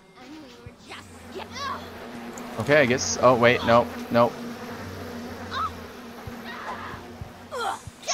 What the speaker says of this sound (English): Sounds like the bees are hurting them.